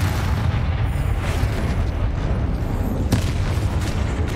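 Confringo blasting spell from the video game Hogwarts Legacy, a loud, dense, continuous explosive roar with rumbling low end and crackling bursts throughout, no talking.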